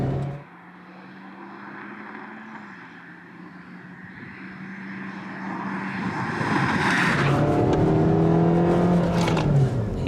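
A small 1.4-litre car engine hums steadily while driving, then rises in pitch and loudness as it revs and accelerates hard toward the end.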